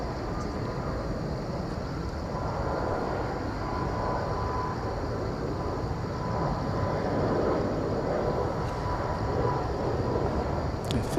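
A jet airliner in an older livery rolls or climbs at Incheon Airport, its steady broadband engine roar continuous and fairly distant throughout, with a faint high whine riding on top.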